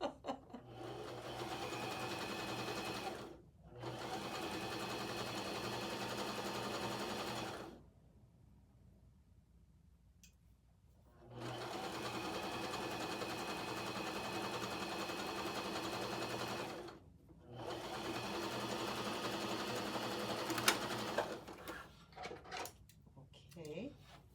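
A sewing machine stitching fabric runs in three long, steady bursts separated by short pauses, with a quieter stretch of handling between the second and third runs; close and fairly faint, with no talk over the stitching.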